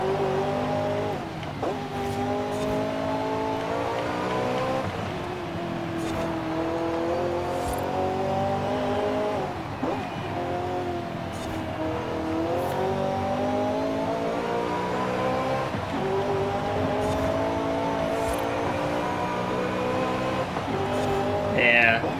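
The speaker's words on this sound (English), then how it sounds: "let's go inside the cab and listen to the engine noise again" In Forza Horizon 5, a 1984 Ferrari 288 GTO's engine is heard from the cockpit, revving up and down through repeated gear changes with a raspy, steady drone and occasional talking over it.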